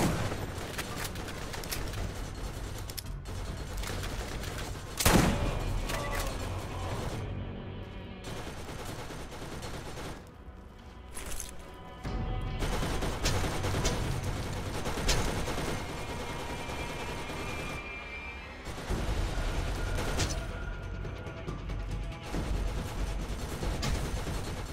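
Enemy turret in Borderlands firing long rattling bursts of rapid gunfire, a sharp loud hit early on, with brief pauses between volleys over a steady din of combat.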